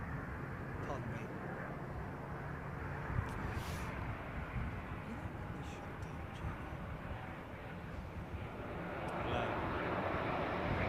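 Airliner touching down at London Heathrow Airport, a steady broad engine roar heard from a distance with a voice talking over it.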